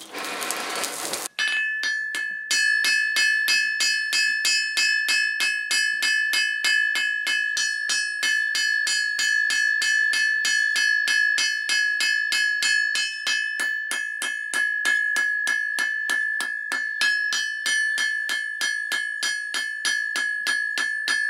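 A blacksmith at Castelnaud beats out a harvesting knife on an anvil with a 1.3 kg hammer, a long run of evenly spaced, loud, bell-like ringing blows in a steady rhythm after a short rustle.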